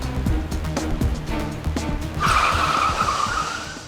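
A car brakes hard and skids to a stop, a loud sustained tire screech rising abruptly partway through over steady road and engine rumble, close and alone with no talk.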